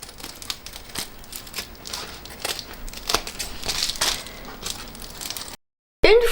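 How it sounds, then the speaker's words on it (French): Fabric corners of an insulated lunch-bag backpack being cut with sewing scissors, a run of soft, close crisp snips and rustles repeating for several seconds before a short silence. "Une fois mes angles marqués, je vais pouvoir les découper."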